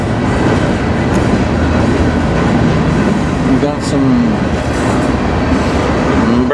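A CN train rolls past on the Strathroy Subdivision in Sarnia, Ontario, a steady close rumble with wheel clatter and a brief horn-like tone, while someone talks over it.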